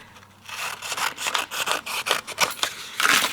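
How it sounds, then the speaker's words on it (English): Paper card stock is trimmed by hand, giving a series of close, rapid rasping cutting strokes in quick rhythm after a brief quiet start. "let me trim it down just a little bit more"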